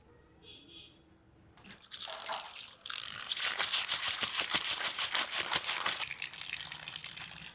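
Koi fish being washed under running water, a near, loud splashing gush that starts after a quiet opening and continues with irregular sloshing as the fish are handled.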